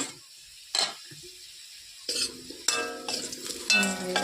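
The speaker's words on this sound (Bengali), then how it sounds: "আলু ভাজা দেখি, আলু ভাজা হয়ে গেছে" Potatoes frying in a pan in a home kitchen, with a soft steady sizzle broken by several sharp stirring scrapes and clinks of a utensil against the pan.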